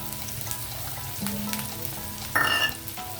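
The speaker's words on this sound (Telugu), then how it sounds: "ఆయిల్ హీట్ అయ్యింది ఆనియన్ వేసేస్తున్నాను" Onion sizzles in two and a half spoons of hot oil, a steady close crackle with a few light utensil clinks and a brief louder scrape near the end.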